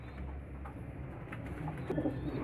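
Pigeons coo softly in a loft, a low faint murmuring call at fairly close range against quiet background, alone without talk.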